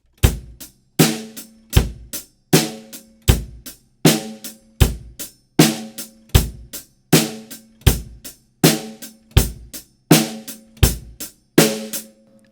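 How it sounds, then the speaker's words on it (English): A drum kit plays a simple beginner groove at a steady, even tempo, with regular strong kick and snare hits under continuous hi-hat for the whole stretch, loud and close with no talking. "we can move on to the more complex drum groove, but it is still simple,"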